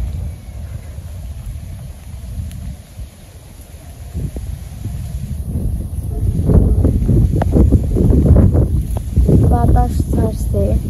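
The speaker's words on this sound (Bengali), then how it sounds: "বাতাস ছাড়ছে" Gusty wind blows across an open village before rain, a steady rushing rumble that builds midway, with faint voices in the distance.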